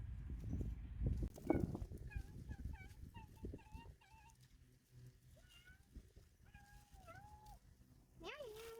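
A cat on a farm gives a series of short, rising meows at close range, repeated several times with brief gaps, after some rustling and voices at the start.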